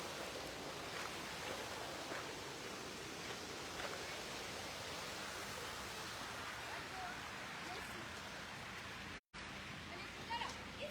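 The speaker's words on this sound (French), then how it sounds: "Petit ruisseau." A small stream flows steadily along a walking trail, a soft continuous broadband rush of water that stays even and moderately close throughout, with a very brief dropout near the end.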